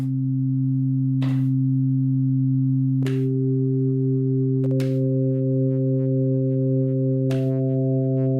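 Instruo Tš-L synthesizer oscillators sounding a steady pure tone as overtones are stacked on one by one, each new harmonic entering with a soft click and thickening the sustained drone.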